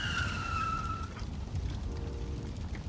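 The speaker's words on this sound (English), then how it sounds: "I'm unclear on why I crashed." A car in a video game skids with a high tire squeal that fades, followed by a rumbling engine and road noise at moderate volume, without speech.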